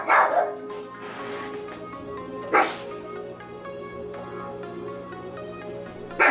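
A guard dog in a home kitchen gives a few sharp barks, spaced a couple of seconds apart and fairly close, over a quiet background of soft music.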